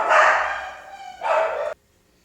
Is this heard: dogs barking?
yes